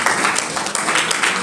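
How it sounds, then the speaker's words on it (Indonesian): A congregation at a church prayer service gives a brief burst of dense, close applause that runs under continued speech. "Berikan tepuk tangan buat Tuhan."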